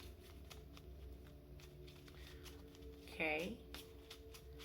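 A deck of tarot cards is shuffled, with faint, soft crisp flicks and taps close by under a quiet background, with a brief spoken word partway through.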